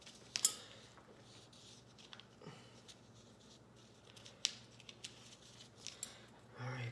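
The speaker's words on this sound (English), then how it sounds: "I'll just start cutting out right along the seam" Scissors cut through T-shirt fabric along the seam, faint crisp snips and rustles scattered irregularly over several seconds, close by and quiet.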